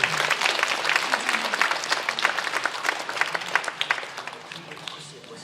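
A church congregation claps in praise at a Korean prayer meeting, dense sustained applause with many overlapping hands, fairly loud and close, continuing steadily for several seconds with faint voices mixed in.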